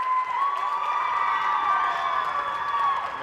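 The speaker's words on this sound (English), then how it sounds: "And the crowd getting into it." Crowd at a girls' high school basketball game between Mid Valley and Riverside cheering and shouting loudly and continuously, a dense roar with high whoops running throughout.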